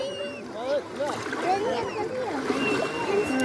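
Sea water splashes and washes continuously while children shout and chatter excitedly nearby.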